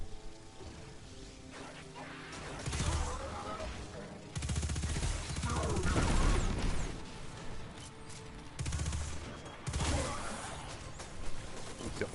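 A fast-firing gun in Destiny 2 lets off several bursts of rapid shots over about twelve seconds, each a few seconds long, with quieter game ambience and some battle noise in the gaps between them.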